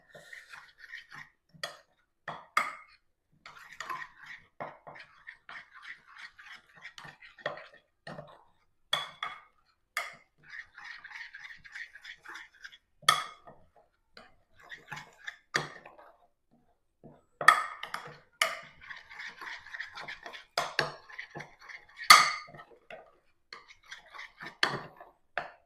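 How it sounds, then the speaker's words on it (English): A utensil stirring and mixing a thick pumpkin pancake-style batter in a bowl, with irregular light clinks and scrapes repeating steadily over about twenty-five seconds, close and fairly quiet. "And we'll give that a stir up,"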